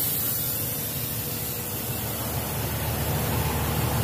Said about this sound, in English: Has a leaking brake air chamber.